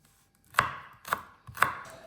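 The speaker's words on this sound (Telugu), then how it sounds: "పచ్చిమిర్చిని కట్ చేసుకుంటున్నాను." Three sharp knife strokes through green chillies on a cutting board, spaced about half a second apart, close and crisp with no talking.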